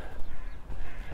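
Crows caw in a brief, faint burst over steady outdoor background noise, heard from a distance at a high viewpoint in Jerusalem.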